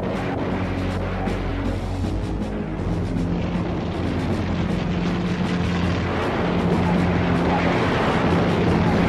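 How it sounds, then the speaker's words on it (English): Korean War-era aircraft, Air Force Sabre jets and bombers attacking North Korean electric plants, make a loud, steady engine roar and rumble with crackling bursts running throughout. "Air Force Sabres flew top cover on the lookout for Chinese MiGs, while bombers moved in and hit the plants."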